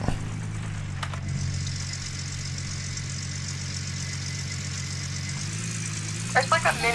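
A truck engine idles with a steady low, rumbling drone throughout, and a few light clicks and knocks come near the end.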